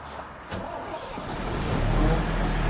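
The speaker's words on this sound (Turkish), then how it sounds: "kamyonumuzu çalıştıracağım." A truck engine cranks and starts, building into a steady low idle rumble that grows louder over a few seconds, with air-brake system context.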